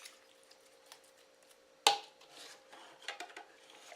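Kabob marinade being mixed with soy-rich and oyster sauces in a bowl: soft wet stirring and squishing with light clinks, then one sharp knock of a utensil against the dish followed by more scattered clatter.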